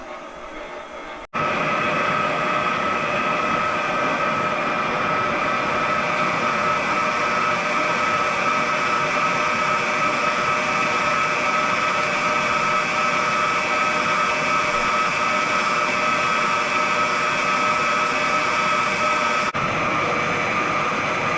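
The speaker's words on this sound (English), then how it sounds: "we'll just continue with our our stand mixer" A stand mixer whirs steadily, beating rum cake batter as eggs blend into sugar. It starts abruptly after a quiet moment and runs loud and continuous for about eighteen seconds, then stops.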